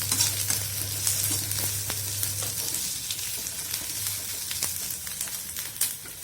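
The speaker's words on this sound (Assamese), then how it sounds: "ভাজি দিছোঁ।" Ginger garlic paste sizzles steadily in a hot pan, a close, loud, continuous frying hiss with occasional scraping taps of a stirring spoon and no talking.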